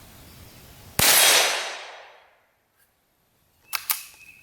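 Single 20 grain 17 HMR rifle shot at a Walmart steel target, one sharp loud crack ringing out and fading over about a second, followed by two faint quick clicks.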